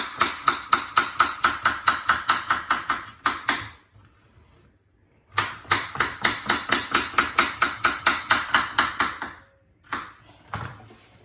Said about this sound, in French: je vais vous couper les carottes comme ça